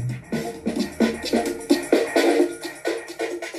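Music plays through a cheap unbranded 400-thousand-rupiah double-DIN car head unit and inexpensive speakers left at default bass and treble settings, with punchy rhythmic hits sounding close and moderately loud.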